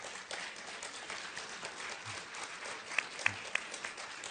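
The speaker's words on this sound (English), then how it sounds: "Well-deserved applause." Audience applause at a Parkinson's story talk, a soft, distant patter of many hands clapping steadily, with a few sharper individual claps standing out near the end.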